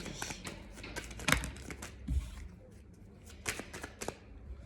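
Tarot cards are shuffled by hand at close range, giving a quick irregular series of soft riffling flicks and taps at a low level, with no talking over them.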